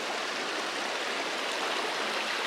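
A spring-fed stream of water flows steadily through a meadow in the Oregon Cascades, a soft, even rushing hiss that stays constant with no voices.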